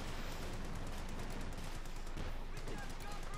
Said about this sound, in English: a light machine gun firing from the windows